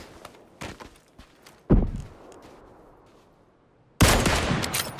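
Gunfire in the battle royale game PUBG: a few scattered distant shots, then two loud sharp reports, the second followed by a short burst of rapid fire.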